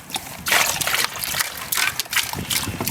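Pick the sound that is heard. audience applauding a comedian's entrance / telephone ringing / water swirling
water swirling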